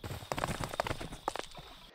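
Horse hooves clop in Minecraft, a quick run of close, crisp clip-clop steps with a busy, uneven rhythm over about two seconds.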